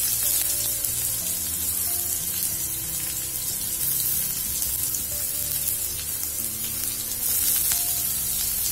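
Finely ground onion and curry leaves fry in a pot for a one-pot lunch box dish, giving a continuous close hissing sizzle with faint clinks and stirring throughout, and no voices.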